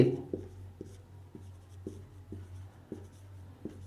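Marker or chalk strokes on a board during a Hindi-language chemistry class, a series of short scratchy writing bursts at an uneven pace over a low steady room hum, with no talking.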